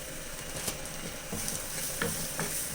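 Grated coconut roasting in a pan for Kerala-style tuna curry, a steady close sizzle broken by occasional scrapes and clinks of a stirring spoon.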